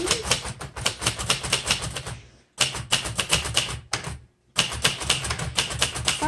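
Fast, crisp key strikes on a 1960s Royal 890 vintage manual typewriter clatter in quick bursts, close and steady, broken by two short pauses.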